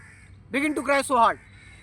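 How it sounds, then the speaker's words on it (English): Crows caw loudly and close in a park, three harsh, drawn-out calls in quick succession over quiet background hiss. "the crows begin to cry so hard"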